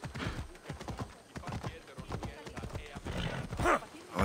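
Rhythmic hoof clip-clops at a steady trotting pace, fairly close, with a brief whinny-like sound near the end, from a horse in the video game Assassin's Creed Odyssey.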